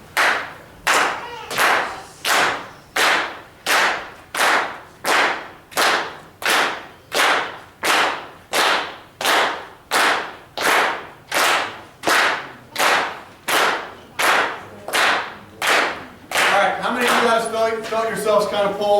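A group at a drum clinic claps together in a steady, even beat, about twenty sharp claps at a slow tempo, loud and close, before a voice starts talking over the last few.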